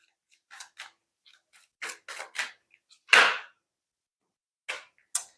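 Tarot cards shuffled by hand, with several crisp riffling bursts and a louder flurry as many cards spill out, close and quiet, with no talking.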